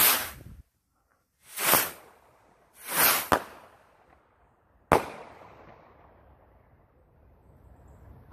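Small firework rockets go off in three loud whooshing bursts with sharp cracks, then one final sharp pop, each leaving a fading hiss and ringing tail, close by with no talking.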